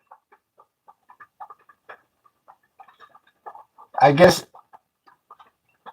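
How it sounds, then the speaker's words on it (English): A chicken gives a short burst of loud clucking near the end, standing out over faint, scattered speech-like sounds in the background. "Yes, that's the sound of a chicken."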